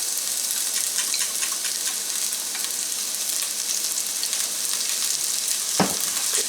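Onions frying in olive oil in a pan over a medium flame, giving a steady, dense sizzle and crackle for the whole stretch, with a brief louder hiss or clatter near the end.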